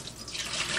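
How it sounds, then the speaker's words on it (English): Hot water pours steadily into a coffee cup in a kitchen, a continuous close splashing trickle that brightens as the cup fills, with no voices. "I always put hot water in my coffee cup to get it real hot."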